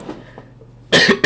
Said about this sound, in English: Still have a cough, very annoying.